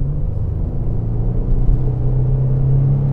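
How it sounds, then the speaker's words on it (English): Inside a 2021 Chevrolet Colorado ZR2, the naturally aspirated engine gives a steady low droning rumble that builds slightly, loud and close with no talking. "There's just something about a naturally aspirated engine."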